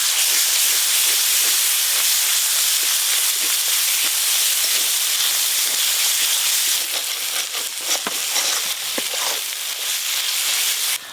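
Spice paste of ginger, turmeric and dried red chilli sizzles loudly and steadily in a pan over already fried onion and garlic, a dense continuous hiss with crackling bursts toward the end.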